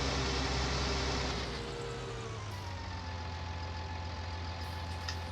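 A tractor engine idles in the Farming Simulator 19 video game, a steady, continuous low mechanical hum. It holds at an even level throughout with no voices.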